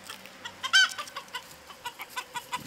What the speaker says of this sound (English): There's my newest little rooster down there.